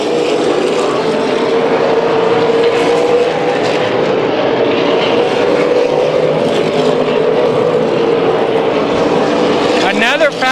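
Super late model race cars howl around the Las Vegas Bullring oval in a continuous loud engine roar that rises and falls slightly as the pack passes, with an announcer talking over it.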